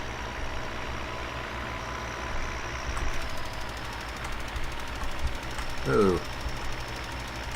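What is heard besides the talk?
tractor engine with sprayer in Farming Simulator 15 video game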